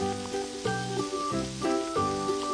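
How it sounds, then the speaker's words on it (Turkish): Fish sizzles as it cooks in a Toca Boca game kitchen, a steady frying hiss under bright, tonal game music, with no talk. "Sana bir balık pişireyim de vereyim dur."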